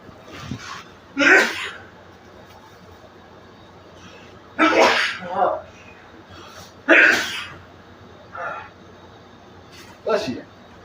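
Several loud, sharp sneezes burst out at intervals, close and clear, with people talking in between.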